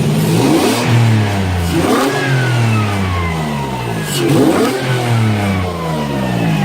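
A loud naturally aspirated car engine revs repeatedly, rising and falling in pitch three times in a row, close by with no voices.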